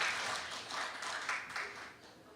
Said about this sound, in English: Please give an applause for Ayuk.